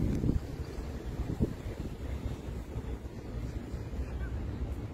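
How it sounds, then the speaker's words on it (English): Cool wind blows by the Lake Michigan shore in Chicago, a steady low rumbling gust buffeting the microphone with no speech over it, and a few louder puffs rise from the continuous roar. "So wind is also blowing, and Michigan water is also very near."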